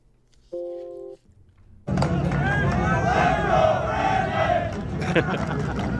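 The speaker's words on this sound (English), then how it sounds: "here's the crowd reacting to the golfers and having fun with Donald Trump showing up there." A golf tournament crowd, after a short tone and quiet start, bursts into loud rowdy cheering and chanting, a thick roar of many voices that carries on to the end.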